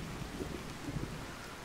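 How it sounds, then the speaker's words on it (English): Steady rain with low rumbling thunder in Fallout 4, a continuous wash of rainfall on surfaces with a few soft low swells, heard alone without speech. "Oh, let's get out of the rain."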